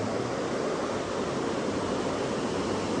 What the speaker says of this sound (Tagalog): Malakas yung agos, baka bawal.